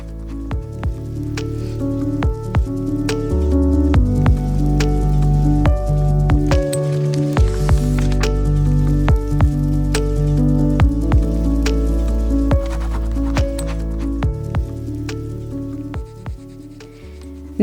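Heavy downpour beating steadily on a surface, with scattered drips and splashes, under a soft melodic music bed with sustained tones, continuing for the whole stretch at a fairly loud, even level in a bedtime story.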